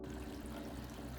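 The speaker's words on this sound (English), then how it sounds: "the water comes out of the fish tank through this pump, and all that water goes into our grow bed right here" A backyard DIY aquaponics pump pushes water from a fish tank into a grow bed, giving a steady close pouring, trickling rush with a low hum underneath and no talk.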